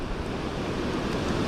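Beach surf off a sandy shore where pompano are fished, a steady broadband wash of breaking waves with some wind rumble, continuous and fairly close, no voices.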